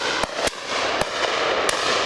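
Shotgun blasts at a pheasant and partridge shoot in a valley, four sharp reports spaced irregularly over a dense, steady background roar.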